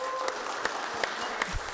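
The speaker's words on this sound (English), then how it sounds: "let's give her a hand claps for being here" Audience applause at a county commission meeting for a fifth-grade student government secretary, a steady moderate patter of clapping with a few sharper claps standing out, heard alone without talk.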